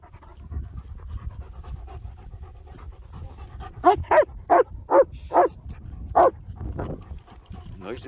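A dog pants in quick bursts, about six sharp breathy puffs close to the microphone, over faint background murmur and soft whining.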